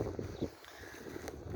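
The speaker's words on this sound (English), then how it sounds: "It's windy here and I hope you can hear me." Low rumbling gusts of wind buffet the microphone, steady broadband noise throughout with no voices.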